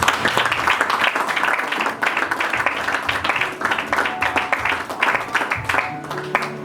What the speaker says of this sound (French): On acclame pour la parole du Seigneur